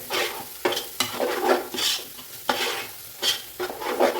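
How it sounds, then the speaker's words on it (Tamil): Mint and coriander leaves sautéing in oil in a pan for seeraga samba chicken dum biryani, with rhythmic spatula stirring strokes scraping over a steady sizzle, close and clear. "ஒரு கை புதினா, ஒரு கை கொத்தமல்லி போட்டுக்கிறேங்க. இந்த ஆயிலே நல்லா வதக்கிறேன்."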